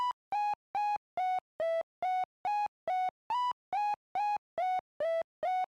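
Synthesizer triangle-wave sound in poly mode plays evenly spaced short pulses, about fourteen in six seconds, with the pitch wobbling slightly up and down between notes, clean and alone.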